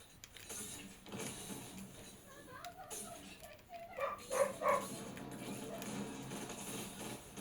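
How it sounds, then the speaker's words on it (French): A pet dog barks in a few short, fairly faint yelps in a room, over a steady mechanical whir and a background of game sounds. "Attention, il y a mon chat qui va aboyer."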